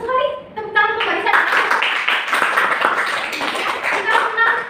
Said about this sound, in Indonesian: Tepuk tangan untuk Mbak Risa.